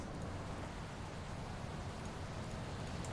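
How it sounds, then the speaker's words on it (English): Steady, even rainfall hisses softly and continuously, a faint wash of falling rain with no other sounds, a weather sound effect in the video game Airport CEO. "I'm getting the, hey, it's raining sound, but it's winter."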